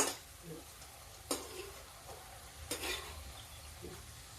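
Crispy moong dal khurma snacks fry in oil in a pan, with a constant low sizzle broken by sharp scraping bursts as the pieces are stirred.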